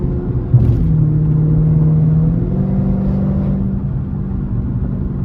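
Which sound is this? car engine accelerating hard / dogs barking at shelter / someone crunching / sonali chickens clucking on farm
car engine accelerating hard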